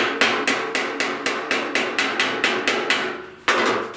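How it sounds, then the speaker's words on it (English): Sharp metallic hammer blows strike a steel fender panel on a 1969 Chevrolet C10 during hammer-and-dolly work, about a dozen evenly spaced ringing hits, close and loud, with a brief pause before a final strike. "I gotta do a little bit of the hammering and dollying right here."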